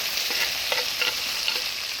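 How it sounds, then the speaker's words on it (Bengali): Fried small fish are stirred into spice paste with turmeric and salt in a pan, giving a steady oily sizzle with a few soft scraping stir strokes, close and continuous. "এবার ভেজে রাখা মাছগুলো দিয়ে দিই।"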